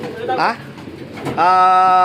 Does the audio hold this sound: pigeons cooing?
yes